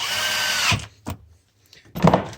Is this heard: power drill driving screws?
yes